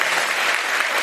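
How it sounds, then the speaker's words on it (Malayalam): Loud, dense clapping from a congregation at a charismatic Catholic prayer convention fills the space as a steady, continuous burst of many hands, with no break. "ഇത് കൈയടിച്ച് കൈയടിച്ച് കൈയടിച്ച്"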